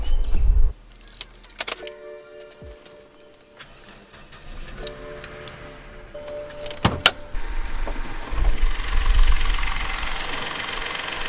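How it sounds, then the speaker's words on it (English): A BMW E60 engine idles with a slight rattle from a worn Vanos system, a low steady hum punctuated by sharp clicks and brief whirring tones, growing rougher and louder toward the end. "this motor is having like a rattle sound"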